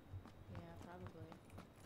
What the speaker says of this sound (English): You can hear us just stomping around with their big old feet.